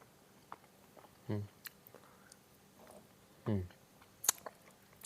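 Dried banana, its flesh torn into strips, being chewed close up in a few short soft bursts, with quiet mouth sounds and pauses between bites.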